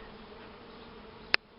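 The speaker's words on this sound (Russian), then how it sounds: "Пчелы все слетают туда, а остается у нас трутовка тут" Honeybees at a beehive produce a faint, steady low drone throughout, broken once by a brief sharp click near the end, with no voices.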